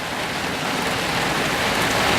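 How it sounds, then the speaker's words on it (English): Heavy rain falls in a thick, continuous hiss, steady and loud throughout with no pauses and no voices. "Wow, it's raining."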